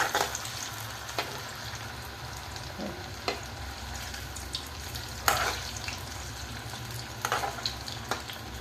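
Soybean cutlets deep frying in oil on high gas, a continuous close crackling sizzle with scattered louder pops and spatters, no speech.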